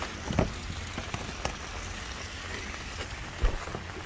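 Rain falls steadily outside, a soft continuous patter with a few sharper drips and taps close by and no speech.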